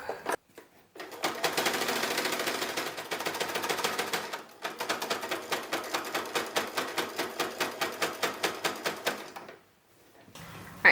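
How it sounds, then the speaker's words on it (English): A sewing machine works across thick layers of fabric on an 1860s-style infant pillow, first a fast continuous run, then slower, distinct needle strokes that thump rhythmically before stopping. "All I have to do is sew across, and I'm hoping my machine will do it because this is a lot of fabric."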